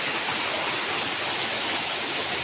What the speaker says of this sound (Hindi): आज सुबह सुबह ही बारिश होना शुरू हो गया है और बहुत तेज़ बारिश है